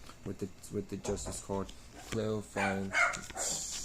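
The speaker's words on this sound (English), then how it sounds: "apologize about the dogs" Dogs bark repeatedly in short bursts, fairly close, mixed under and between a person talking steadily.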